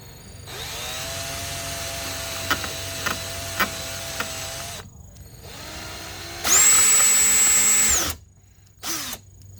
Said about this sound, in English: Drilling gently first,